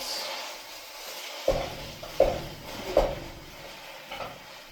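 A spatula scrapes and taps a pan while breaking up meat for chili, with four or five distinct knocks spaced about a second apart over a soft background hiss.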